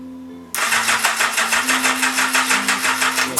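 A car engine cranks and fires into life after a starter-button press on its first start-up, jumping abruptly from near silence to a loud, steady, rhythmically pulsing run.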